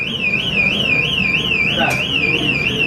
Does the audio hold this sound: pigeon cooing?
no